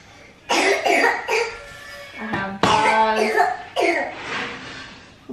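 A young child coughing indoors in a kitchen, several close, loud bursts of coughs and throat sounds in quick clusters, with a few brief voiced noises between them.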